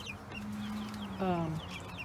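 Silkie chickens cluck softly in the background, with a drawn-out low call and a louder squawk midway, scattered chirps around it, in a steady outdoor setting.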